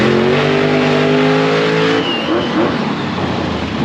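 Monster trucks at a monster truck bash on the Charlotte Motor Speedway roar loudly, engines revving high with rising harmonic whine before running out of gear and dropping into a rougher, lower rumble.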